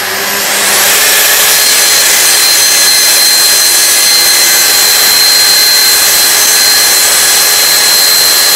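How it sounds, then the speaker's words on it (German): A Hikoki C8FSHG miter saw crosscuts a wooden board, its motor spinning up and then holding a loud, steady high-pitched whine with cutting noise throughout. "Jetzt werde ich erstmal quersägen, das letzte Stückchen hier."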